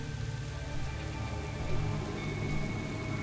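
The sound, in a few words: rain in World of Warcraft, video game weather effect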